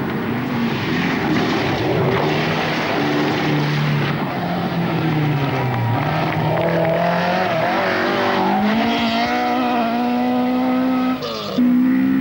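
A rally car engine roars at high revs on a stage of the 1985 Rally New Zealand, pitch rising and falling through gear changes, loud and steady throughout with no talking.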